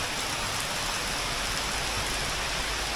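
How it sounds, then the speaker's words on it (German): Heavy rain pours down in a dense, unbroken hiss during a thunderstorm, loud and close, with no voices over the steady downpour. "Das Starkregen ist eingetroffen und wir haben uns hier hinter versteckt."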